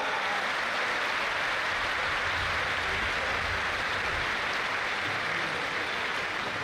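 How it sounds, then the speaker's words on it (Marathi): A crowd claps steadily throughout a university youth festival opening ceremony, dense continuous applause filling the room without a break. "एकदा जोरदार टाळ्या वाजवा"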